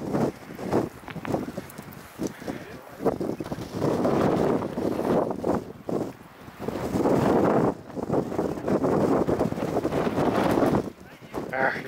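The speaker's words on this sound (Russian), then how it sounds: "Ветер." Gusty wind buffets the microphone in long roaring surges, with low rumbling bursts that swell and fade over several seconds, while riding a Kawasaki Versys 650 motorcycle.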